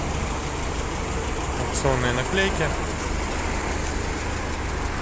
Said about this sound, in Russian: Работает двигатель очень хорошо.